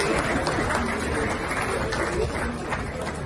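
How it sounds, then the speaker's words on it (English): A dense wash of crowd applause fills the space at an Islamic prayer gathering in Yobe, steady and fairly loud, with murmuring voices blended underneath. "A round of applause for him"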